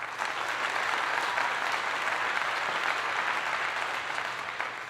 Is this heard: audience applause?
yes